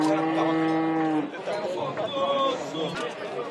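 A cow gives one long, loud, close moo at a cattle fair in Tabira, Pernambuco, followed by busy crowd chatter and people talking over the noise of the livestock market.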